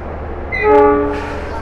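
A train horn sounds once in a sustained harmonic blast over the steady rumble of the Tawang Alun locomotive on the Banyuwangi–Malang line, swelling briefly then fading back to engine noise.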